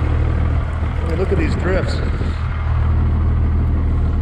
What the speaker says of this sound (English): So I got the old truck running.